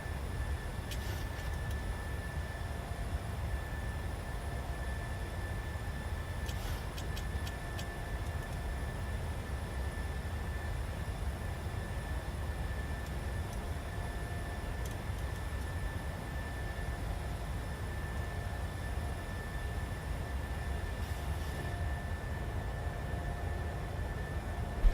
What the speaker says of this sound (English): Let the aircraft accelerate.